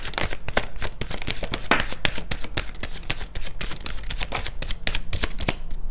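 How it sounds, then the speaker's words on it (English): A tarot deck is shuffled and cut by hand, giving rapid, crisp riffling flicks and slaps in quick irregular bursts, close and loud, with no one speaking. "I'm just going to cut the deck"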